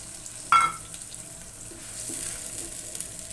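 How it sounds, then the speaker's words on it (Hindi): Ground onion paste fries in hot oil for a korma, giving a soft, steady sizzle at low level, with a brief sharp utensil clink near the start. "अब इसको फ्राई होने तक इंतज़ार करते हैं ताकि अच्छी तरह फ्राई हो जाए।"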